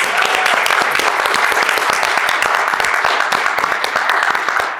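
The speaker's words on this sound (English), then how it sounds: "Can we just take one more moment to give Hannah another round of applause?" Enthusiastic audience applause at an evening event on faith and poverty, dense rapid clapping from a sizeable crowd, loud and sustained throughout before easing off at the close.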